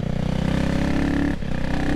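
A CCM Spitfire Six motorcycle engine runs steadily at speed below 5,000 RPM while being run in, its loud, close, continuous drone briefly dipping partway through.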